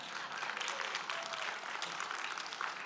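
Steady applause from a congregation, fairly distant and even, continuing throughout the clip.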